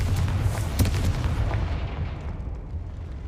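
A Confringo explosion spell cast in the video game Hogwarts Legacy bursts with a loud, booming blast at the start, its rumbling roar slowly fading away over the next few seconds.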